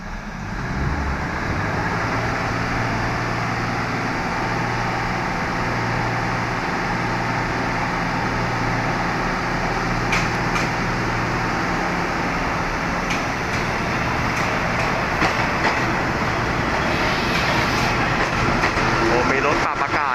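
Train 318 pulls into Bangkok's Hua Lamphong station, a steady loud rumble of wheels and engine with low droning tones throughout and occasional sharp metallic clanks, while someone talks over it.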